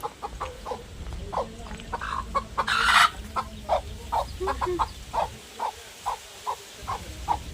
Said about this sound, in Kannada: ಕೋಳಿ ನೋಡಿ ಪುನಃ ಇಲ್ಲಿಗೆ ಬಂದಿದೆ